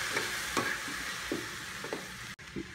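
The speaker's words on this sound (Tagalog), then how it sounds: "Haluin." A spoon stirs chicken gizzards with tomato, onion, garlic and pepper in a sizzling pan for a Filipino gizzard and sayote dish, several soft scraping strokes over a steady fry, with no talk.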